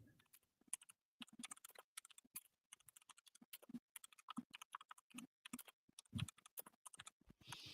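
Fingers tap rapidly on a computer keyboard, bursts of close, crisp keystrokes broken by short pauses, with no talking.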